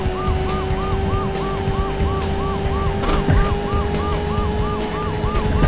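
Police siren in the PlayStation motorcycle racing game Road Rash Jailbreak, a loud repeating rising-and-falling wail cycling steadily over engine drone and game noise.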